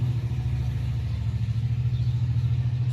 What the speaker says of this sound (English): I gotta wait while the loudest truck in the world goes by